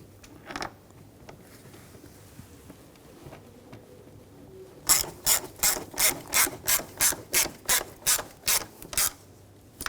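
Ratchet clicking in a quick, even series of a dozen sharp strokes while tightening bolts on a 2007-2013 BMW X5 3.0L L6 engine, close and loud after a few quieter handling sounds.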